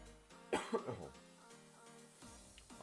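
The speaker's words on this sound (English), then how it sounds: "now the cough's coming back" A person at home during a live football gaming stream gives a few close, harsh coughs in quick succession, followed by quieter throat-clearing sounds.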